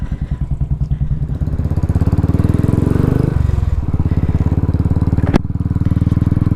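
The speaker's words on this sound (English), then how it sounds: "Let's take it out for a test ride and review this 19-tooth front sprocket swap on a Royal Enfield Classic 500." A Royal Enfield Classic 500 single-cylinder motorcycle with a 19-tooth front sprocket thumps along on a test ride through town, its pulsing exhaust loud and near, dipping briefly as it shifts before pulling again.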